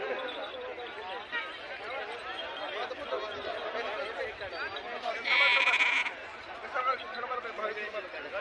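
Decorated sheep at a devotional gathering bleat amid a busy crowd of devotees, the animal calls mixed into steady chatter, with one louder, sustained bleat standing out near the end.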